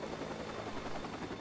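A helicopter in the open-world game Watch Dogs, heard as a faint, steady rotor drone and broadband rumble from a distance, with no talking.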